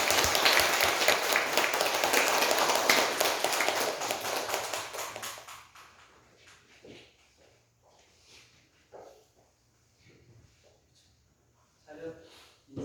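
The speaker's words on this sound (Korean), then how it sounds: "나오실 때 큰 박수로" Loud applause fills a church service for about five seconds and then fades out. Afterward come quieter shuffling, scattered taps and bits of talking.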